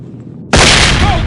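A flashbang grenade goes off in the tactical shooter SWAT 4 as a sudden, very loud, close blast that stays at full level to the end, cutting off a quieter stretch of faint background game sound.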